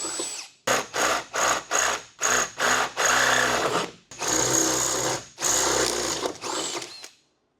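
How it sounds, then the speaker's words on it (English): A power drill bores holes through the roof of a 4x4 during a roof rack fit, sounding in a string of short close bursts, then longer sustained runs of whining motor, with no talk. "nothing like drilling holes in your roof"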